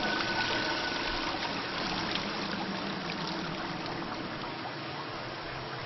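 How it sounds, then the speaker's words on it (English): Steady rushing waterfall in the video game Dear Esther, a continuous broadband roar of falling water that stays even and moderately loud throughout, with no voices. "Really? Another waterfall to jump off of?"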